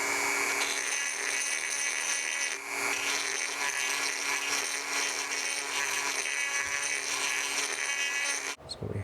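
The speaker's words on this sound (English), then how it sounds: "So I might as well go and work with a Dremel." A Dremel rotary tool grinds continuously at a high, whining pitch, loud and close, and keeps running almost without a break until a short cut near the end.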